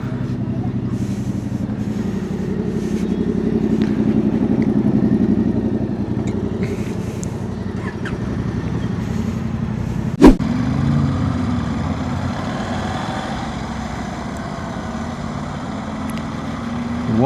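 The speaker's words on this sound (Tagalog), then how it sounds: "Ang ingay naman ng motor na yun." A loud motorcycle engine drones steadily nearby with a low rumble, and one sharp click pops out partway through.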